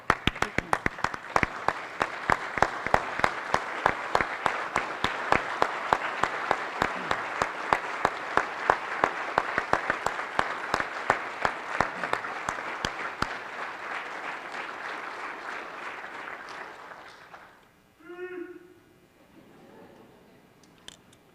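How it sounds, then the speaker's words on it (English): A crowd at a military retirement ceremony at Fort Knox gives a standing ovation, dense sustained clapping for about seventeen seconds that then fades out, followed by brief faint murmuring. "Please join me in giving them a standing ovation."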